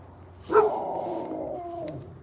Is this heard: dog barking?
yes